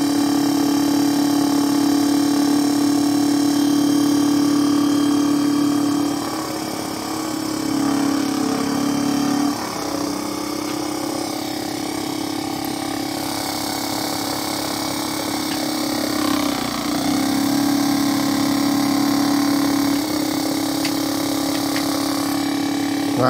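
A Gerard Morin pump motor runs on 12 volts with a steady, loud electric whine and hum that holds for the whole stretch, dipping briefly a few times without stopping.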